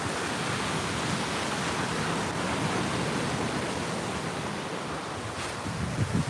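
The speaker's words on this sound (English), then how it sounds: "Atlantic Ocean." Atlantic Ocean surf washing onto a quiet beach on a calm morning with a very light breeze, a steady, dense broadband roar of breaking waves held close and loud throughout with no speech.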